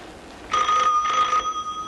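An old telephone in a 1990s Egyptian film rings with a loud, close electric bell, two bursts of trilling ring separated by a short pause.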